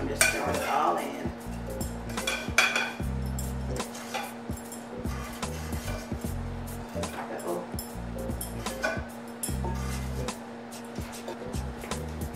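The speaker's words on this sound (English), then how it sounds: "It's going to break up when we break it up, when I mix it all up" Crumbled cornbread being mixed into vegan Southern dressing in a bowl, with repeated clinks and scrapes of a utensil against the dish close by, while a person talks intermittently and a steady hum runs underneath.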